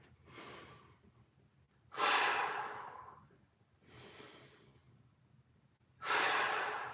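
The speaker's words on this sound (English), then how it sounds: "We're just working our breathing." Slow, deep breaths during a floor mobility exercise: four breathy rushes of air, the exhales stronger and louder than the inhales, close to the microphone and alone over a quiet background.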